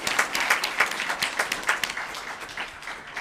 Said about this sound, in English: That alone deserves applause.